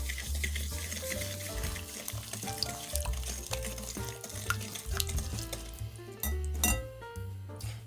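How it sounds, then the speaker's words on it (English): A whisk works through pumpkin bread batter with vanilla extract in a bowl, a quick rhythmic series of clinking taps and scrapes against the bowl, close by, over soft background music and no talk. "Now we're going to take our whisk and we're going to mix it all together until it's well combined."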